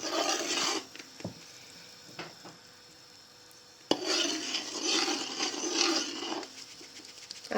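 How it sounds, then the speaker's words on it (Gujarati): A spoon stirs urad flour mixture in a pan while making adadiya pak, giving steady scraping and rubbing strokes with brief pauses and a sharp clink of the spoon midway. "હવે આપણે એને હલાવતું રહેવાનું છે બધા ગાંઠો ઓગળી જાય ત્યાં સુધી"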